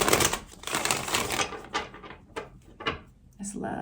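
A deck of tarot cards is shuffled close up in a few quick riffling bursts and soft papery slaps, with short pauses between them and a brief voice near the end.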